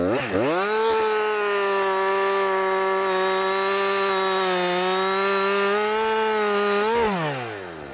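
A chainsaw revs up and cuts steadily through a tree trunk during felling, with a loud, sustained engine whine that holds even pitch for several seconds before dropping off at the end.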